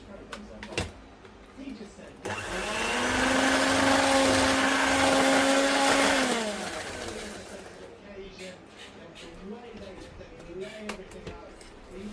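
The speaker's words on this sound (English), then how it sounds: "It's an old mixer." An old electric mixer whirs steadily for about four seconds while Bakewell tart batter is beaten, its motor tone holding then winding down, with a person speaking before and after.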